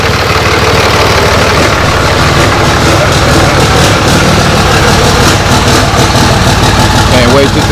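A 2005 Cummins diesel engine with a bad injector runs loudly and close, a constant rough idle with a clattering, uneven knock throughout, with voices talking over it.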